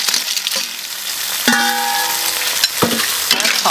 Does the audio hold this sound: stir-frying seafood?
yes